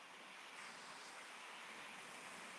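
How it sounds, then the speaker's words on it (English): Ocean waves on a beach in the West Country, a faint, steady broadband wash of surf with no distinct breaks, heard distantly and without talk. "Can you hear the waves?"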